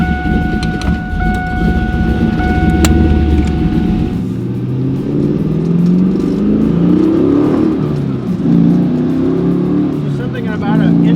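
A nitrous-fed Pontiac Trans Am WS6 V8 rumbles loudly while driving, with low engine revving and shifting throttle bursts holding steady throughout; no one speaks over it.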